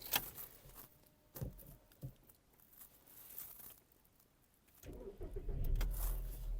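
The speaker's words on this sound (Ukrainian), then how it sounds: "Двигун запускається чудово, оберти не плавають." A Skoda Octavia A5 with 131,000 km on it, heard up close: a few scattered clicks and knocks, then the engine cranks, catches and settles into a steady idle that keeps running to the end.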